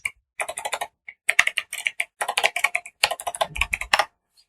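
Typing on a computer keyboard in Firefox, rapid close key clicks in several bursts separated by short pauses, clear and alone.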